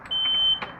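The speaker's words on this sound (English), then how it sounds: "It keeps sounding on. Do you all hear it?" A home smoke alarm, tripped by steam from hot shower water, gives a loud sustained electronic beep that cuts off sharply after about half a second, with faint room noise around it.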